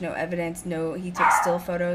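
A pet dog barks and yips in short bursts at close range, partly overlapping a person speaking.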